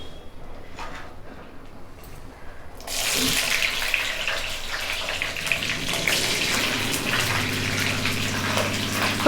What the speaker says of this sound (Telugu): ఇప్పుడు పచ్చిమిర్చి వేసి వేగించుకుందామండి